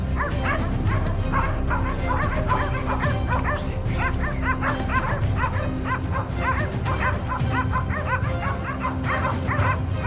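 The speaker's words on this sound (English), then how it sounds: "The dogs barked fiercely, echoing through the forest." Hunting hounds bay fiercely at a cornered wild boar in Texas woodland, a dense, loud, continuous chorus of overlapping barks and yips with occasional whimpers, several dogs close by.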